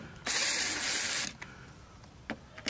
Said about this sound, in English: So we're going to open these two screws.